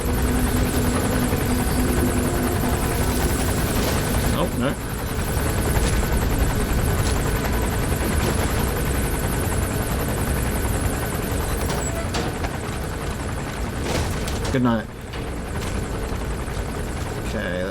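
A searchlight helicopter in Metal Gear Solid V: The Phantom Pain keeps up a loud, steady rotor drone and engine hum overhead for the whole stretch, with a brief spoken remark near the end.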